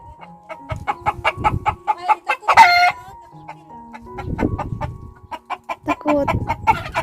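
Small chickens on a desert farm cluck close by in quick, repeated bursts, with a louder squawk partway through and scuffling between calls.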